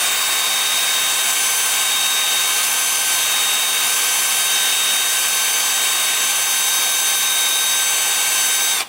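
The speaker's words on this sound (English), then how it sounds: "And the lathe is spinning at 350." Steady, loud whirring hiss of a wood lathe turning a flower pot at 350, continuous and unbroken, then cutting off abruptly at the very end, with no voices.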